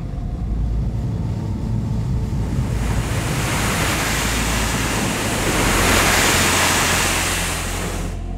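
Powerful wind roars in a dense, continuous rush that swells slightly toward the middle and stays loud and steady throughout, with no voices.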